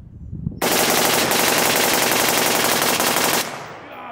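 A rifle with a binary trigger fires rapidly outdoors, a loud, continuous burst of shots lasting about three seconds before stopping abruptly, with no talking.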